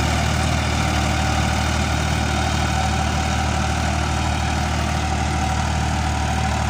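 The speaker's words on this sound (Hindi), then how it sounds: "और ट्रैक्टर को करीबन 2 घंटे ज़्यादा हो चुके हैं चलते हुए।" A Farmtrac 60 tractor engine runs steadily while ploughing a harvested mustard field, a loud, continuous low diesel drone with no speech over it.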